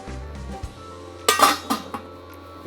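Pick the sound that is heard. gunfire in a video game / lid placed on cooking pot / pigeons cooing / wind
lid placed on cooking pot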